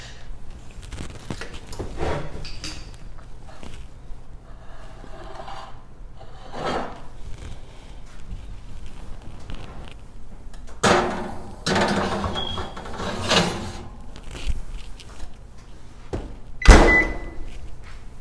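A Mexican hot dish casserole goes into an oven preheated to 350 degrees: intermittent scraping and rubbing handling noises at close range, ending with a sharp, loud clunk of the oven door.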